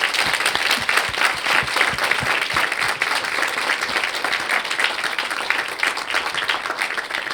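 A large audience applauds Ursula Johnson at the close of her talk, steady dense clapping sustained evenly throughout, loud and continuous with no pauses.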